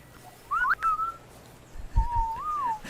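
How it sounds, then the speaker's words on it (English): Someone on a beach whistles two short rising-and-falling melodic phrases, fairly clear against a quiet background with a soft low thump in between. "Somebody's whistling at me"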